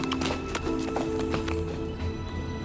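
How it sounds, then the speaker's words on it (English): A horse trots at a quick pace, its hooves clip-clopping in a quick, even rhythm with some light rattling, at a moderate distance and with no speech. "Aaron pushed the horse to trot out of the complex a bit faster."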